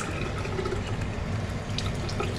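Water runs steadily from a tap in a capsule hotel in Tokyo, a constant close splashing hiss with no talk over it.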